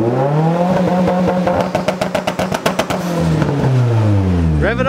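A Nissan S14 car engine revved a couple of times, rising then falling in pitch with a burst of rapid rhythmic pulses at the peak, loud and close, ending with a brief noise.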